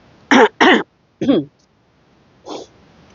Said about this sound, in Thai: ถ้ายังมีเสียงกระแอมก็ต้องขออภัยค่ะ